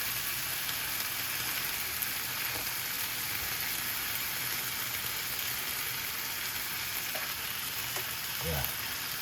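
Butter sizzles in a pan alongside rump steak, a steady soft frying hiss that runs evenly throughout with only a couple of faint knocks near the end.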